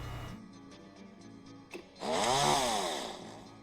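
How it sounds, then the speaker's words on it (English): Video game chainsaw revving up to a loud, buzzing roar that rises and then sags slightly, after a quieter stretch of game sounds and a short click. "Chainsaw."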